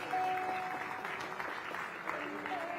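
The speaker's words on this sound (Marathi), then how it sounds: "त्यांच्यासाठी टाळ्यांचा गजर एकदा व्हायलाच हवा." Steady applause from an audience at a special honour ceremony, a dense, continuous patter of many hands clapping nearby for about three seconds, with faint voices underneath.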